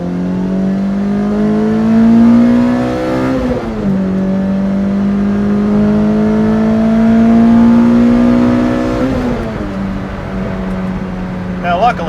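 A Lotus Elise sports car engine revs hard and climbs in pitch, dropping briefly at two gear shifts before pulling up again, loud and close.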